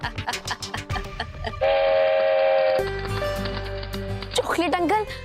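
A toy train made of chocolate runs with a horn sounding, held tones and whistle-like blasts over a rhythmic rolling chug, fairly loud and close, with music-like tones and brief vocal sounds around it.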